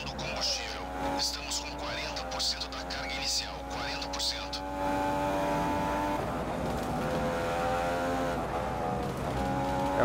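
A Formula 1 car engine from the F1 2015 racing game screams at high revs at the British Grand Prix, shifting pitch through gear changes with tire noise, steady and loud, while someone talks over it.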